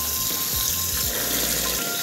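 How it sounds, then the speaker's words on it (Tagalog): Hot water pours and splashes steadily as fish is placed in to defrost for a Filipino coconut-milk fish dish, a close, continuous rushing sound. "Lagyan natin sa mainit na tubig."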